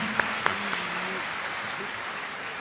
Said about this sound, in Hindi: जोरदार तालियां बजाएं इन सभी के सम्मान में।